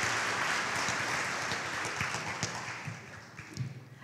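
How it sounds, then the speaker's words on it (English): Applause at an awards show, a dense steady clapping from a large audience that holds strong and then gradually thins and fades toward the end, with a few louder individual claps standing out. "Let's give a big round of applause for Mr. Jason Smith of Fox 10"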